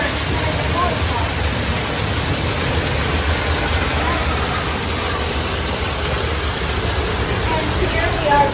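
Steady broadband rush of a waterfall at a pirate-themed mini golf course, continuous and fairly loud, filling the whole stretch with a constant wash of falling water.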